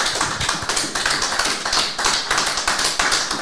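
An audience at a talk on secularism breaks into steady applause, dense and continuous, with many hands clapping at once in a room and no voices over it.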